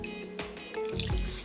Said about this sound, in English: we're just going to pour that on there